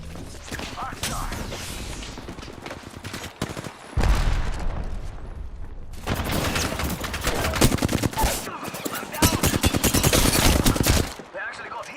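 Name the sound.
gunfire from a video game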